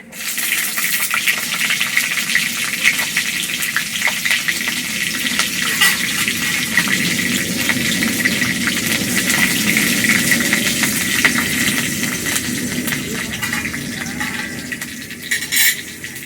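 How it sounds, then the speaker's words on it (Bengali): Torn green chillies dropped into hot oil, giving a loud, crackling, gushing sizzle that runs steadily for about sixteen seconds with a few scattered pops, close by and with no voices. "ছেঁড়া কাঁচা লঙ্কা গুলো দিয়ে দিচ্ছি এবার তেলের মধ্যে"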